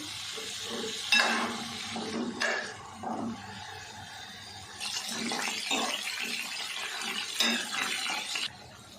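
Water poured into a hot pan of potatoes frying in oil sets off a loud hissing sizzle that surges in several bursts and stays busy throughout.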